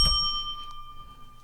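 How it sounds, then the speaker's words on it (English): A meditation bell is struck once with a bright ding, and its clear ringing tone lingers and slowly fades on its own. "I'm going to ding this bell"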